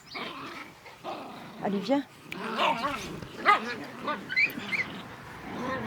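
A miniature pinscher gives a few short barks and yips in a garden between stretches of a person talking to it nearby.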